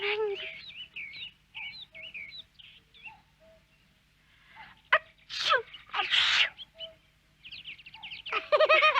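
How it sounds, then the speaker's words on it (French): A cartoon girl on a forest picnic in the Alps sneezes twice in quick succession, loud and close, between light bird chirps and soft background tones. "Atchou, atchou."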